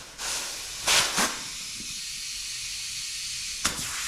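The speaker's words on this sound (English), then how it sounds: "I've got the air compressor fully aired up, and we are at 120 psi" An air compressor charged to 120 psi blows into a recreated Toyota Celica All Trac hood scoop, making a steady close hiss with sharper bursts near the start and one near the end.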